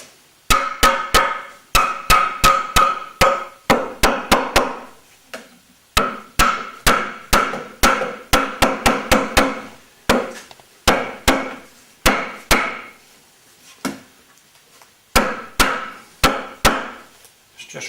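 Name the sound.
hammering spokes into a wooden wheel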